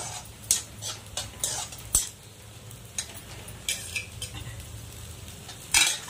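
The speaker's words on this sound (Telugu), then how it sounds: "ఇదంతా ఫ్రై చేసుకోవాలి బాగా" Onions and garlic frying in a pan for upma, a soft sizzle under repeated scraping stirs and metal utensil clinks against the pan, close and with no voices.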